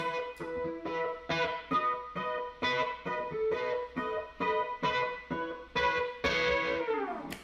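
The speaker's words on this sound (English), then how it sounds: "I just play those quietly by finger picking at the beginning." Single electric guitar notes are finger-picked quietly one at a time, each ringing out briefly in an even, unhurried rhythm with slight effects.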